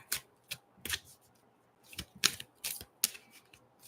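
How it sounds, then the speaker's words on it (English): Angel cards being shuffled by hand, a series of crisp papery riffles and slaps in irregular bursts, close and fairly quiet, with no voices. "It's funny how sometimes cards, it's like I barely start shuffling and then they jump out."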